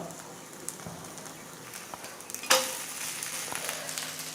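Rava dosa fries in oil on a pan with a steady, faint crackling sizzle, close by, and one sharper pop partway through.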